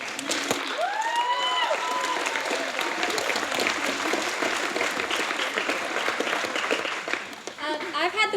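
Applause from a theatre audience at a stage performance of The Drowsy Chaperone: dense, sustained clapping from a large crowd that holds steady for several seconds, with a few cheers near the start before it tapers off.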